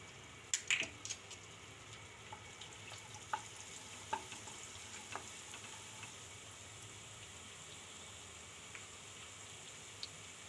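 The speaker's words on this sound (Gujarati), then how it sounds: "તેલ ને મલાઈ આપણી ગરમ થઈ ગઈ તો આપણે પહેલાં હિંગ નાખી દેવું।" Asafoetida sizzles in hot oil and cream in a pan, a faint, steady crackling hiss with a few soft clicks and taps early on, quiet and without talk.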